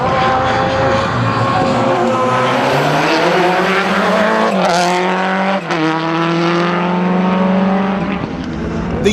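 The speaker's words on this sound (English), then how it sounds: "He had Kenny McKinstry's Subaru buzzing him from behind." Rally cars, with Kenny McKinstry's Subaru running close behind another car, roar past loud and near, their engines rising and falling through gear changes and overlapping as they chase each other.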